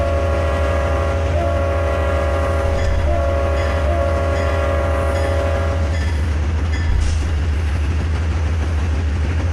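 A train in the video game Trainz T:ANE rumbles along loudly and steadily while its horn sounds in long sustained tones, cutting off about two-thirds of the way through.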